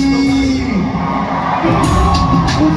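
Concert crowd at a hip-hop show screaming and cheering loudly and continuously, a dense wall of whoops and yells close up.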